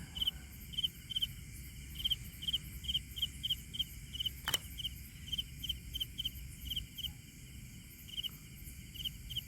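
Crickets chirp in steady, rhythmic pulses through a quiet night, with one brief sharp click partway through.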